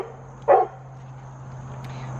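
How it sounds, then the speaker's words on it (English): A dog lets out a single short warning bark at moderate distance, standing out briefly over a steady low electrical hum and otherwise quiet surroundings. "She's sending out the warning barks to everybody."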